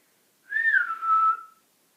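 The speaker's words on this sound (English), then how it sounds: "That was a whistle." A single clear whistle, a short two-part rising and falling tone lasting about a second, heard alone in a quiet room with no talking.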